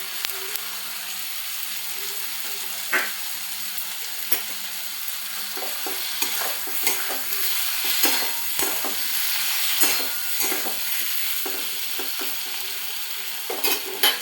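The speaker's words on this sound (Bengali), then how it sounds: "আদা বাটা দিয়ে দিচ্ছি" Ginger paste fries and is stirred in a pan for a vegetarian bottle gourd curry, a continuous sizzling hiss broken by repeated scrapes and taps of the spatula, close and steady throughout.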